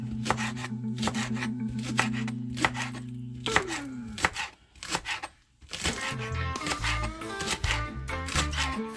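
Green onion is chopped with a sharp knife on a board in quick, steady rhythmic taps. The cuts are close and fairly crisp against a low background hum, with a short pause before the chopping resumes.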